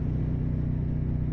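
A Suzuki SV650 motorcycle with the dB killer baffle removed from its exhaust gives a deep, dark, steady rumble, loud and close, with no other sounds.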